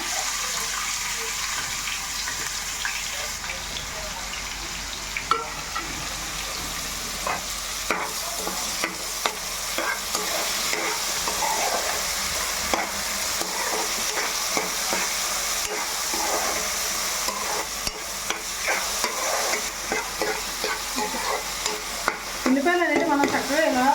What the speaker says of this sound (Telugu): ఈ ఉల్లిపాయ తొందరగా మనకు వేగాలండి